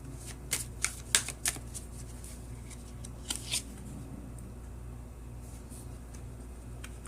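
Tarot cards are shuffled nearby, giving a few quick papery riffles and flutters in short bursts with pauses between, over a low steady room hum.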